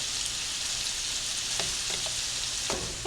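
Meatballs fry in a skillet with a loud, steady sizzle, and occasional soft bumps and scrapes as they are turned in the pan.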